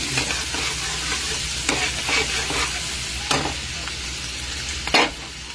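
Garlic and onion fry in melted butter in a pan, a constant close sizzle broken by occasional sharp scraping stirs of a spatula.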